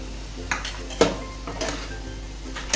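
Dry cluster bean sabzi with peanut powder is stirred in a pan, with several distinct spoon scrapes and clanks over a soft sizzle, close up and with no voices.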